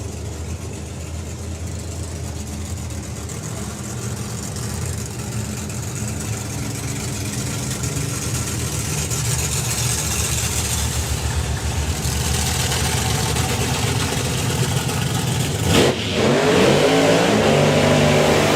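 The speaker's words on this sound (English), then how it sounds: "You could very much hear the difference in RPM between the two cars." Doorslammer drag racing cars at a drag strip idle and rev their engines, a steady loud rumble that builds with rising revs and a sharper burst near the end, no talk.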